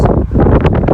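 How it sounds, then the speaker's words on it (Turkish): Wind buffets the microphone in heavy, muffled gusts, a loud rumbling roar that fills the short moment. "Kusura bakmayın biraz rüzgar var."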